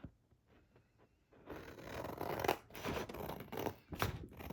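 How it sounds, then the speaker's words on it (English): Scissors trim paper scraps up close, with a few quiet snips at first and then a run of crisp cutting and rustling paper, with no voice. "I am going to just trim this down a little bit to get started."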